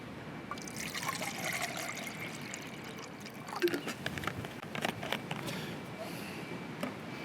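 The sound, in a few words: pouring water into a camping stove pot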